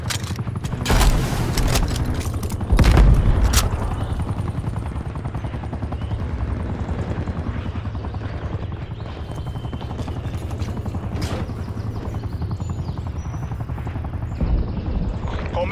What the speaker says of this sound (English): Hostile spy plane established overhead.